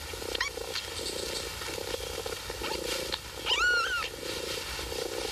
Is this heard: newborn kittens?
yes